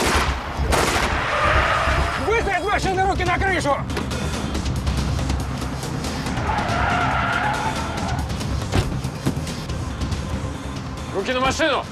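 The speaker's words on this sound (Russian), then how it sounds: "Преследую автомобиль, черный БМВ" A black BMW tears through a police car chase, its tires squealing in repeated skids over a roaring engine, with sharp bang-like bursts and loud voices breaking in throughout.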